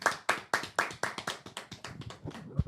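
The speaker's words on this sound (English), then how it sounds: "Dalian, clapping." Hands clapping in a steady run of about a dozen sharp, close claps that gradually quicken and soften, with no voices over them.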